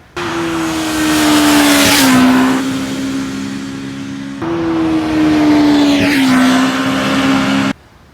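An MV Agusta Brutale 750S motorcycle engine screams upward in pitch twice past 13,000 rpm, each run climbing to a loud peak with a gear change before cutting off abruptly.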